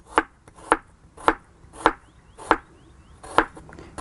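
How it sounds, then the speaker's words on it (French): A knife chops fresh turmeric root into small pieces on a board: six or seven crisp, close, evenly spaced thuds, with quiet pauses between them. "Je le coupe en petits bouts, comme ça, il sera très rapide à mixer."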